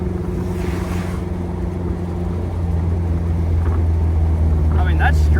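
Jeep Wrangler cruising at 60 miles an hour on a road, a steady loud low drone of engine and road noise heard from inside the cabin, with someone speaking over it.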